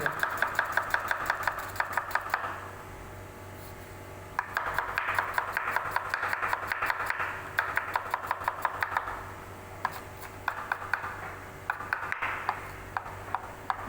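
Quick knife chops through an onion on a cutting board come in bursts of rapid, even taps, pausing briefly between runs, close by over a low steady hum.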